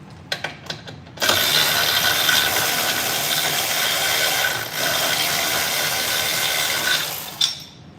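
A ratchet wrench with a 14 mm socket loosening a tight star bolt on the rear brake of a Tesla Model 3, heard as a few sharp clicks followed by a loud, steady whirring ratchet run that stops near the end.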